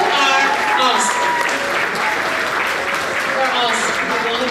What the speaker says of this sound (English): So let's give Miss Land a round of applause